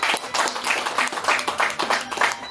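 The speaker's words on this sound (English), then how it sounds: "So let's give all the band leaders a round of applause." Audience at a steel band gathering applauds the band leaders, a dense, steady wash of many hands clapping close by for a few seconds, with no talk over it.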